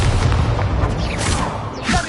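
Confringo, a blasting spell in Hogwarts Legacy, detonates in loud, booming bursts of fiery impact layered over dense combat noise, with a couple of sharp whooshing hits close together.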